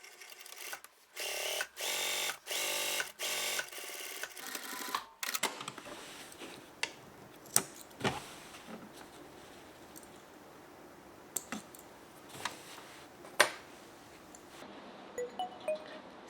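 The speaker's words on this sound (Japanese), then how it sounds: "見返しと縫い代だけをここから2ミリ、1、2ミリのところでずっと縫っていきます。" Sewing machine stitching the facing and seam allowance of trousers in several short close bursts of rapid whirring, followed by quieter handling clicks and taps of fabric and tools.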